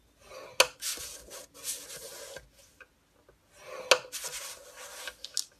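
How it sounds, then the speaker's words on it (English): Paper scored along inch marks with a scoring tool for a gift box lid, heard as a few near, dry rubbing scrapes in short strokes with sharp clicks between them. "Score at all the inch marks, all the way around."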